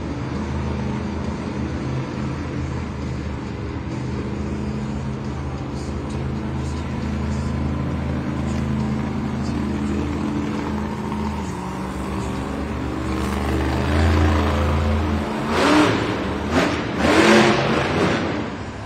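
A Velociraptor monster truck revs its engine during a Monster Jam Sky Wheelie competition in an arena in Spokane, WA: a loud, steady, close engine drone that swells into harder, rising revs toward the end.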